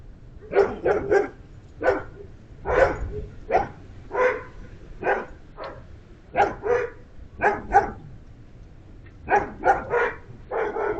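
A dog barks repeatedly outdoors at night on a private property, letting out about twenty sharp barks in uneven clusters at moderate distance. Nothing else is heard and no one speaks.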